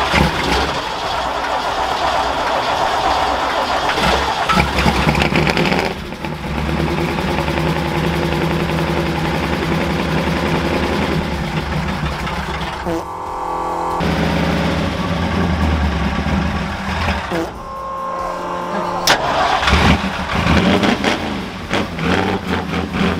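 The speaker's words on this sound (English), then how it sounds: "I'm gonna start my truck." A pickup truck engine turns over and settles into a steady idle, rumbling loud and continuous for about twenty seconds, with a brief dip in the middle where the engine note drops and then returns.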